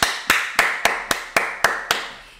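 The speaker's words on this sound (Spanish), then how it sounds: "Aplausos para ella." Eight sharp, evenly spaced hand claps ring out close by, a slow deliberate rhythm from a single person applauding.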